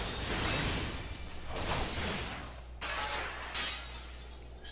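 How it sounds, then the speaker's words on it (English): Glass shattering in the video game Final Fantasy XIV, a loud crash followed by two more breaking bursts over a steady low game hum, with no talk. "Sounds like glass breaking."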